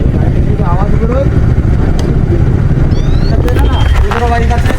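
A motorcycle fitted with an aftermarket silencer exhaust runs loud and close, its rough engine drone steady throughout while voices talk over it.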